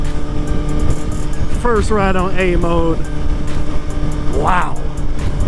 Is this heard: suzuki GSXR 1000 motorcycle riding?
yes